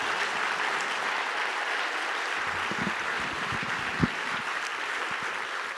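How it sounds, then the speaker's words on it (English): Sustained audience applause fills a hall at a Seattle Martin Luther King Jr. Unity Day event, an even, unbroken roar of clapping with a few low thumps partway through. "one more round of applause, please"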